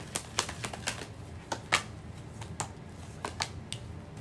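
Tarot cards being shuffled by hand, a string of soft, close, irregular snaps and riffles spaced through a quiet background, with no talk.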